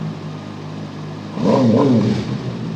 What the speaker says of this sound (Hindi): मुझे लगता है इसके अंदर रेव लिमिटर दिया हुआ है इन्होंने, जिसकी वजह से ये थ्री 3000 RPM से ऊपर नहीं जा रहा।